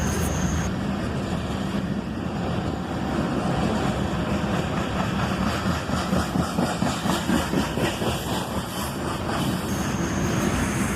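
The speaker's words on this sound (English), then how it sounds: "A single ES44 ACH leads this train." A CSX ES44AC diesel locomotive leading an iron ore train rumbles past slowly through a switch into a siding, a heavy steady engine drone with a rhythmic pulsing throb building toward the end.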